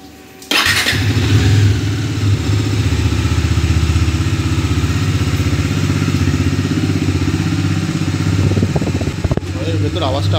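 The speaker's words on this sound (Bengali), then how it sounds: "কোল্ড স্টার্ট করে নিই।" A motorcycle that has sat unused for a long time, at 7,258 km, cold starts with a sharp catch, then settles into a loud, close, steady idle with an even thumping beat.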